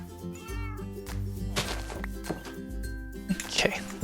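Cats meowing inside a farming video game, a few short mews over game music and background sounds, with a person talking throughout.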